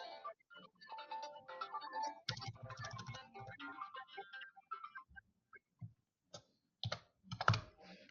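Fingers type on a computer keyboard in bursts of close clicking keystrokes, with gaps and a few louder key taps between them.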